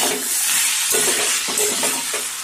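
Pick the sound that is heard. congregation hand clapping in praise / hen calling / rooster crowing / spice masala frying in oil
spice masala frying in oil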